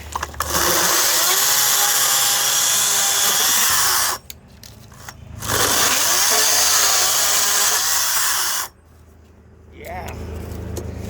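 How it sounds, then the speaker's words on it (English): A Greenworks 60 volt battery chainsaw whines loudly up close in two long high-pitched bursts, each cutting off abruptly into brief quieter gaps. "That's an impressive chainsaw right there."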